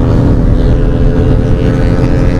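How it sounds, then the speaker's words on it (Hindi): A Benelli 300 and a Yamaha R15 motorcycle, both fitted with SC Project aftermarket exhausts, idle and rumble loudly and steadily at close range during a night ride, with no talk. "तो गाइस आप लोग साउंड चेक करो भाई, दोनों में SC प्रोजेक्ट लगा हुआ है दोनों के अंदर"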